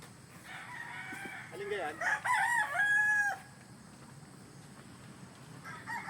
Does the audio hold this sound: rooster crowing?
yes